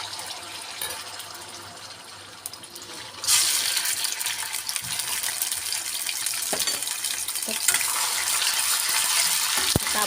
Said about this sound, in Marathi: आता आपण त्यामध्ये 2 चमचे अद्रक लसूण मिरची कोथिंबीरची पेस्ट घालूया.